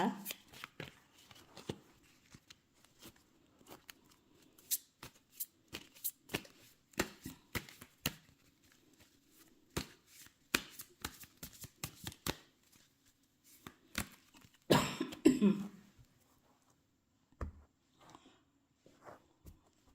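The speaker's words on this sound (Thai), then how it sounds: "ขอเป็นตัวแทนสับไพ่ตัดไพ่คนเกิดวันพุธนะคะ" Tarot cards being shuffled and cut by hand, a run of quick riffling flicks and taps with a louder burst of shuffling near the end, with someone speaking quietly around it.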